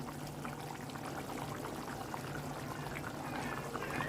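Prawn curry simmers in a pot after water has been added, giving a faint, steady bubbling and hiss with no voices over it.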